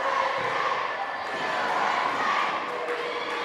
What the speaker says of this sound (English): the USA chants break out here again in Walhalla Middle School